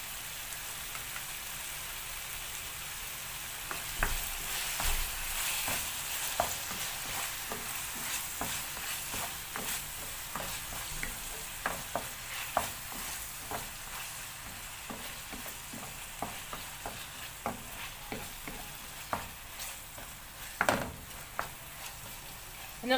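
Chicken in a pot with two big spoonfuls of plain yogurt sauce, stirred as it sizzles and reduces over a butane gas stove, steady frying hiss with irregular scraping and clacking strokes of a spoon, no talking.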